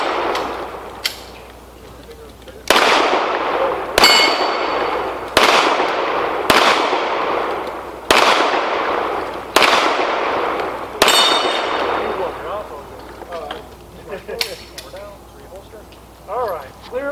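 Action pistol match on an outdoor range: a string of about eight loud, sharp pistol shots with ringing steel impacts at a steady pace, then range commands spoken afterward.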